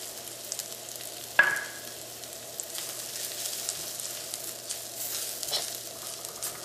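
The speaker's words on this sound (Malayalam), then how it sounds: "ഈ മല്ലിപ്പൊടി നമുക്ക് എണ്ണയിൽ ഇട്ടിട്ടൊന്ന് മുരിച്ചെടുക്കാം." Coriander powder roasting in oil for a potato and brinjal curry gives a steady soft sizzle, with one sharp clatter of a spoon against the pan early on and faint stirring scrapes afterward.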